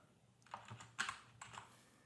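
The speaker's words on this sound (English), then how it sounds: "now we simply type in the name and home zip code of that sales rep" Computer keyboard typing, a few quiet bursts of keystrokes in short irregular clusters, close and soft with no speech.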